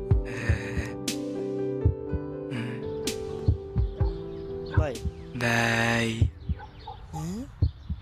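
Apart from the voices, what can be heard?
heartbeat sound effect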